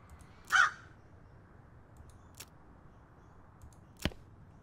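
A crow in the West of Loathing video game gives a sharp caw, followed by two fainter, briefer clicks spaced seconds apart over quiet background.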